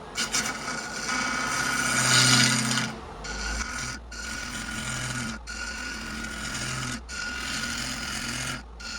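A bowl gouge cutting a segmented checkerboard wood bowl spinning on a lathe, a loud continuous rough scraping hiss broken by short pauses between passes.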